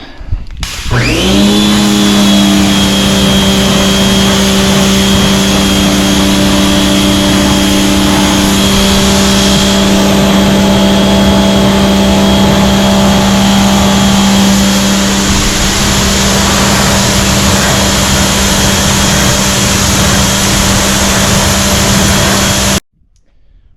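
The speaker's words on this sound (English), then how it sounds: "I just like to use the power washer again, rinse the wheels off so the product comes off" A power washer rinsing product off car wheels during a car wash, its motor starting up and running as a loud, steady whine with a constant spray hiss for about twenty seconds before cutting off abruptly.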